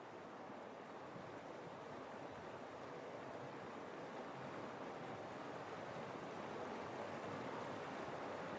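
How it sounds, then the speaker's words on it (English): A river churns in a deep Himalayan ravine beneath a swaying cable footbridge, heard as a steady, even wash of rushing water with wind, constant and fairly faint. "with the river churning far below."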